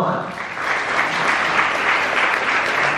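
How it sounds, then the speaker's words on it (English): A ballroom audience at a care network event breaks into continuous, loud applause, steady and full for the whole stretch with no pauses. "let's give everybody a big round of applause."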